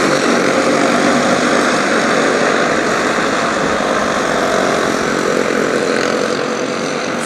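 Go-kart engines on a race track at Cross Roads Motorplex in Jasper, Florida, karts running single file: a steady, loud, buzzing engine drone that holds evenly throughout with no talking.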